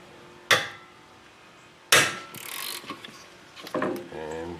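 Wrench loosening the brake caliper bolts on a Subaru Forester during a wheel bearing job, with two sharp metallic cracks as the bolts break loose, then ratcheting clicks and light clanks of tools close by.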